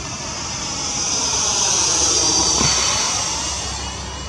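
A Freewing MiG-21 RC model jet descends to land at an airfield, its steady high-pitched ducted-fan whine and airy rush swelling slightly as it passes and then fading, with no talk over it.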